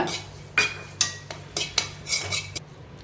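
A utensil stirs grated coconut roasting in ghee in a pan, giving a series of about eight sharp metallic scrapes and taps against the pan at an uneven pace, close and clear with a faint background hum.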